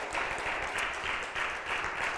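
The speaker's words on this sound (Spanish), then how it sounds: "Démosle un buen aplauso al Rey de Reyes y Señor de Señores." A church congregation claps in praise during a worship service, a moderately loud, steady wash of many hands with slight swells throughout.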